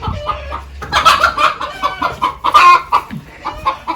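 Farm hens cluck and squawk in a barn near lambing sheep, loud and close, with busy overlapping calls and bursts throughout and no talking.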